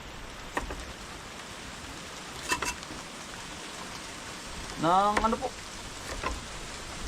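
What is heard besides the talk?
fine rain falling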